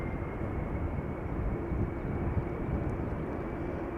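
A 22-year-old Boeing 767-400 at Schiphol Airport produces a steady, broad jet engine roar that holds at an even level throughout, heard from a distance with no voices.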